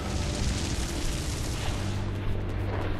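A fiery flare-up eruption in the Dungeon Siege 3 deep well dwarven mine, heard as a dense roaring burst with low rumble that holds steady for a few seconds before thinning out.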